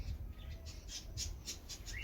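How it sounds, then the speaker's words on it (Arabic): Birds in a green nature reserve chirp in short repeated high tweets, several calls spaced evenly over a low rumbling background, moderately near and fairly faint. "صوت العصافير كده بيملى السما"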